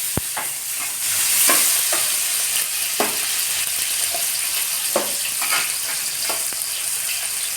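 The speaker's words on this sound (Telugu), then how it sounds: "ఉల్లిపాయలు వేసేస్తున్నా కట్ చేసేస్తాను ఉల్లిపాయలు బాగా బ్రౌన్ కలర్లో రావాలి" Onions frying and sizzling in a pan for Andhra-style fish curry, a loud steady sizzle close up, broken by repeated scraping and tapping strokes as they are stirred, with no speech.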